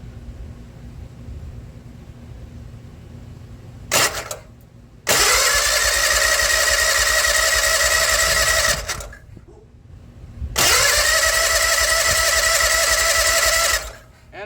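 Gravely Z34 mower engine that sat two years in chest-high weeds, with an empty fuel system, cranking hard in two long bursts of several seconds each, loud and close, separated by quiet pauses; a brief click precedes the first burst.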